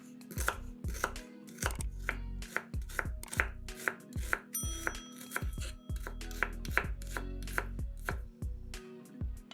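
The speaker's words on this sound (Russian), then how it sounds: "1 небольшую луковицу нарезаем кубиками." A knife dices a small onion on a cutting board in a rapid, steady run of crisp chopping strikes, close and clear, with no talking.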